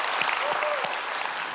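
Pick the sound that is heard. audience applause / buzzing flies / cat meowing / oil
audience applause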